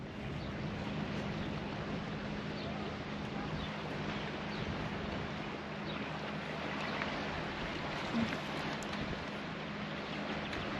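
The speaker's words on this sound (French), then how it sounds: "Navigation très calme ce matin, au moteur, hein, comme toujours, en ce moment." A sailboat motors under engine across a calm sea toward Minorca, giving a steady, unbroken drone with a low hum and constant wash of water for the whole stretch, with no talking.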